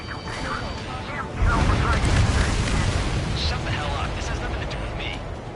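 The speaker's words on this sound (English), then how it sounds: "What was that explosion?" Explosion in the video game Ace Combat 7, a heavy low boom rolling under ongoing character voices and radio chatter, with a rumbling tail that fades slowly.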